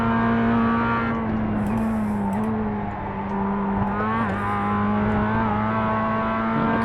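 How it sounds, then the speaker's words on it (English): A Mazda MX-5 Cup race car in the iRacing sim drones at steady high revs with a brief throttle blip on a downshift, loud and continuous with light tire noise and no talking. "A bit of a blip of the throttle there as we come down to second, just to keep the rear end stable"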